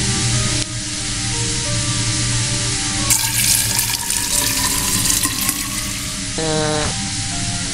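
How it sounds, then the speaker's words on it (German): Water gushes steadily from a turned-on tap in the video game Fran Bow, a bright hiss lasting a few seconds over soft, sustained background game music, followed by a short rising chime. "Wenn ich den Wasserhahn aufdrehe, kommt vielleicht Wasser raus."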